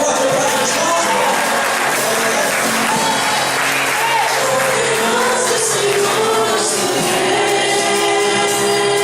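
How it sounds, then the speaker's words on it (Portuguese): A church congregation in Damolândia, Goiás, claps together in a full, sustained round of applause mixed with voices and music, loud and continuous throughout. "Pode dar uma salva de palmas dele, pode dar uma salva."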